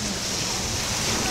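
Sea waves at a beach beside a tent, a steady dense wash of surf mixed with wind buffeting the microphone, loud and continuous throughout.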